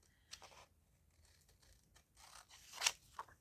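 Scissors cut through paper ephemera made from business forms, a soft quiet run of snips and rustles with a brighter snip near the end, no talking.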